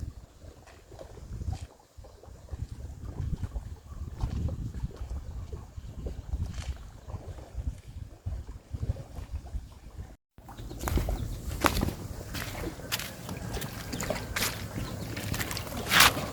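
A boat on Lake Toba, a low motor rumble and water sloshing with wind buffeting the microphone, then a sudden louder stretch of engine and splashing after a brief cut.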